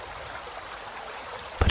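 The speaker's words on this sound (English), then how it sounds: "The sound of the water intensifies around you" Steady, gentle flow of stream water, a soft continuous rush and trickle at moderate level, with a brief louder splash right at the end.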